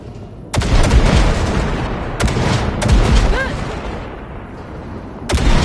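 Weapons fire in a video game as wrecked ships are blasted, loud booming shots landing at irregular intervals, several close and heavy, over a continuous rumbling background.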